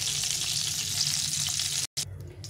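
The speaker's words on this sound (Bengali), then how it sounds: "প্রথমে আমি কচুটা আর আলুটা একটু ভেজে নেব।" Taro and potatoes fry in hot mustard oil, giving a loud, even, close sizzle that runs continuously, broken only by a momentary cut to silence before resuming.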